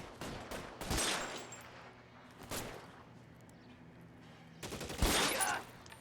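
Gunfire rings out in the detective video game L.A. Noire, with several sharp bursts of shots separated by quieter pauses, loud and close, over a low game background.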